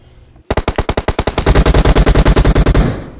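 Automatic weapon fire in the video game PUBG Mobile, a loud rapid burst of around thirty closely spaced shots after a brief quiet start, with no talk over it.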